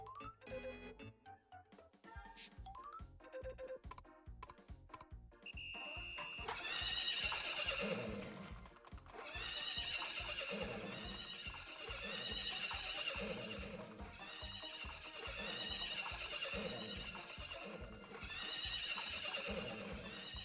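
Horse neighing from the horse race in the Story of Seasons: Friends of Mineral Town video game, a loud whinny repeated several times over bright, rhythmic game music.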